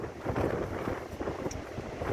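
Wind blowing steadily over the Black Sea coast at Arkhipo-Osipovka, a dense, even rush of air buffeting the microphone with low rumble and no voices.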